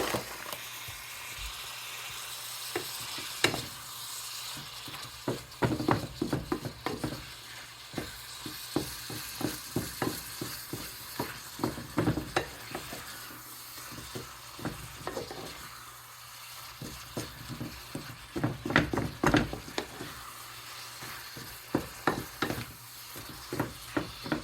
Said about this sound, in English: you're just trying to saute the tomato